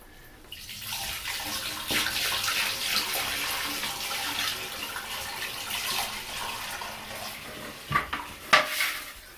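Water swirls and gurgles steadily for several seconds, a continuous close rushing wash with a few sharper knocks and splashes near the end.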